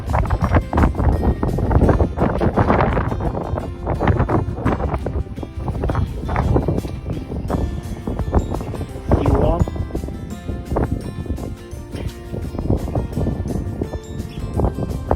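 Strong wind buffets the microphone at an outdoor hunting spot on a cold Texas day, coming in heavy low rumbling gusts that rise and fall throughout.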